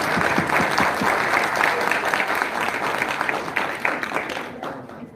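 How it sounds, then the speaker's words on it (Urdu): An audience gives sustained, dense applause to welcome a chief guest at a gathering, loud and steady before fading slightly at the end. "تو چاہوں گی بھرپور تالیوں میں آپ ان کا استقبال کریں"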